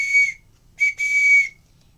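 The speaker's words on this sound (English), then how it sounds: "It's a flute, and it's a flute, but it's like a soul flute." A soul flute toy blown loudly in shrill, piercing whistle bursts, one short blast followed by a longer sustained one after a brief break, close and harsh with no talking.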